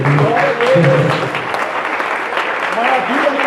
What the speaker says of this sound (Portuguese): aplauda Ele nessa noite.